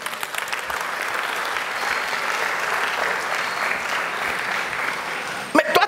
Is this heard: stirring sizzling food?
no